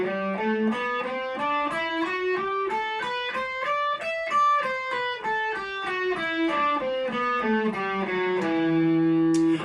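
An electric guitar with a distorted tone plays a major mode scale shape starting on E, individual notes stepping up and then back down in an even rhythm, clear and close, with no talk.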